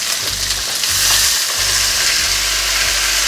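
Onions and tomato sizzle and fry in a hot pan, a steady loud crackling hiss with a periodic low hum pulsing underneath throughout.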